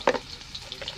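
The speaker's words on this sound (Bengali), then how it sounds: "আলুটা লাল করে ভেজে নেব।" Potato pieces with a little salt fry in oil in a pan, giving a short, soft sizzle with a brief stirring scrape near the start.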